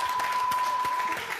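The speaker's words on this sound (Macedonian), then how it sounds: "Аплауз! Аплауз!" A studio audience on a Macedonian quiz show breaks into applause, a dense steady clatter of clapping that tapers off slightly at the close, with a voice briefly under it.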